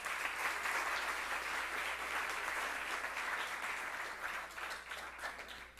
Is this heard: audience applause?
yes